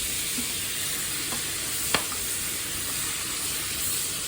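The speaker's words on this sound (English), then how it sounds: "Make sure they're covered and cooked in the butter." Pak choy frying in butter in a hot pan and being stirred, giving a loud, even sizzle, with one sharp clink of a utensil partway through.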